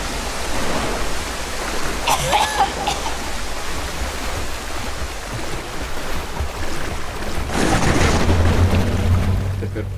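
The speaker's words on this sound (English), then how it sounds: "This is the waterfall." A waterfall in the video game Tomb Raider Legend, in the England level, gives off a steady, full roar of rushing water with no break, swelling louder for a moment near the end.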